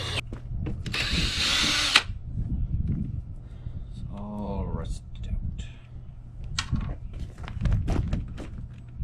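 A power drill backs rusted screws out of an RV during teardown, whirring in short bursts with pauses between, close and loud, while someone talks over and between the runs.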